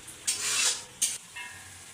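Pumpkin pieces hit a hot pan of potatoes and beef lung in a village kitchen, setting off two loud, close sizzling bursts that fade into a softer hiss.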